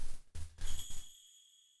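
Small bells tied to the ends of two red hair ribbons in a game give a bright tinkling ring after a couple of soft thumps, the shimmer trailing off quietly on its own.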